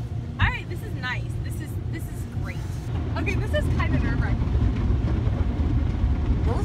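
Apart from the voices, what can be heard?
automatic car wash machinery running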